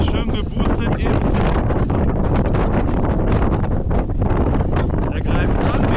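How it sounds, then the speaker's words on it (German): Wind buffets a microphone outdoors in a loud, continuous roaring rumble with gusty flutter throughout, heavy and close, masking everything else. "Wind zieht auf."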